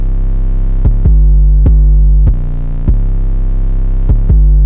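An 808 bass from a drum kit, playing a sequence of deep, booming sustained notes with sliding pitch changes and sharp retriggers, loud and alone with no voices.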